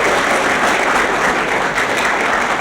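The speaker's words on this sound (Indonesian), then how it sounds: "Tepuk tangan dulu dong." Loud, dense clapping from a studio audience during an Indonesian comedy show, a steady uninterrupted burst of applause, close and full.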